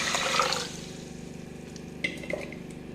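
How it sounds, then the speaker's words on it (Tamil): Water pours into a pressure cooker holding washed horse gram. A short splashing gush fades into a low steady hum, followed by a couple of light clinks and drips. "இது நல்ல தண்ணி ஊற்றி வேக வச்சுக்குவோம்."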